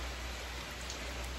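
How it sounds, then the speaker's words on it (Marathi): Steady monsoon rain falling in the Konkan countryside, a continuous even hiss of drops on surfaces with no distinct breaks, fairly quiet and constant throughout. "पाऊस काय थांबत नाही"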